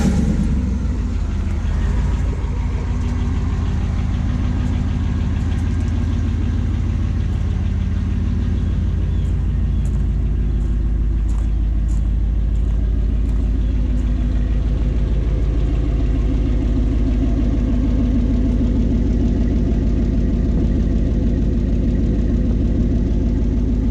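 A lifted Chevrolet Silverado on 40-inch tires with an 8.1-liter engine, dual exhaust and aftermarket air intake runs at a steady, loud idle, its deep low rumble droning on without voices.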